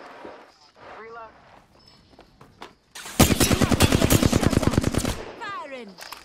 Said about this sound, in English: Firing. Reloading.